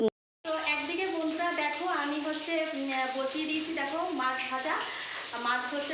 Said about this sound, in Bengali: আর এরকম মাছ ভাজা হচ্ছে